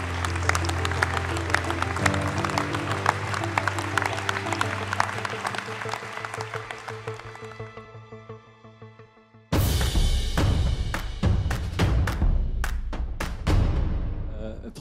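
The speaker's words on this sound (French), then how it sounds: "Je pense que vous pouvez tous vous applaudir" An audience at a French civic anniversary event applauds, with clapping over music in the first half, then a sudden louder burst of close, sharp clapping that gradually thins out.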